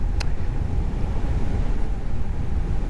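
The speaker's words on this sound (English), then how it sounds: "it's windy out here" Low, blustery rumble of wind buffeting the microphone outdoors, constant and fairly loud, with a brief faint tick near the start.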